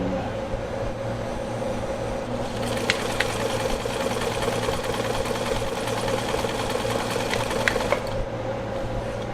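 A Brother Coronado Duchess sewing machine runs steadily at close range, stitching a wide zigzag with a continuous mechanical whir and rapid rhythmic needle clatter, starting and stopping alone without talk.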